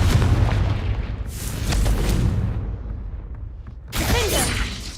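The Confringo fire spell blasting in Hogwarts Legacy, a booming explosive burst with rumbling crackle that fades, then a second sharp blast near the end.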